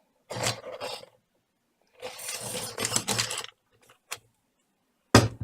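A pencil is ground in a sharpener that is not working properly while drawing. Two longer, close, rasping bursts are followed by a few brief scraping catches, with silence between them.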